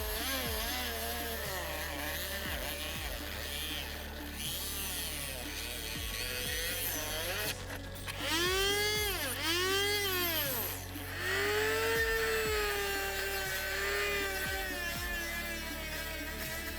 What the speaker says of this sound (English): we're gonna cut it down and then grind it smooth